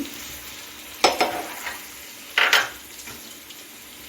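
A spoon stirs peas and tomato in a frying pan, with two distinct bursts of scraping and clinking against the pan over a soft background sizzle.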